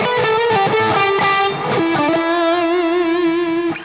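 Loud, saturated electric guitar chords through a BluGuitar Amp1 ring out in a dense, buzzing tone; held notes cut off cleanly by the amp's soft noise gate setting, with little background hiss.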